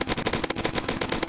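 Rapid bursts of automatic gunfire from the Roblox Zombie Attack video game, crackling in quick repeated shots across the moment with no talk over them.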